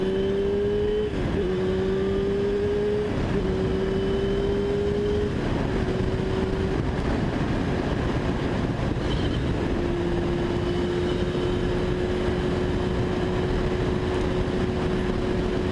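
Yamaha R6 motorcycle running while being ridden after carburetor cleaning, a loud sustained engine drone with a steady tone that dips and shifts with gear changes over constant wind rush, no talk.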